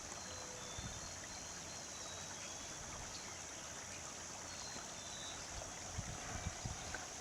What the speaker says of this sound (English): we can see the water running underneath the tree and into the orchard